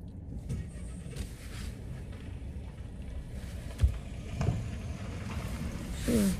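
Interior of a car on the road, a low steady rumble of engine and tyres with faint wind, a couple of soft bumps and knocks along the way, no voices.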